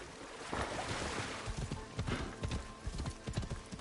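Horse hooves pound rapidly in the video game Assassin's Creed Shadows, an uneven rushing gallop close up over a breezy outdoor ambience, without voices.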